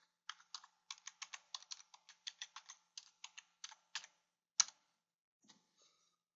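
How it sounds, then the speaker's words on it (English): Fingers type on a computer keyboard in a quick, close run of crisp key clicks lasting about four seconds, followed by one louder keystroke and a few scattered taps, with no talking. "Let me type that in the chat box for you guys"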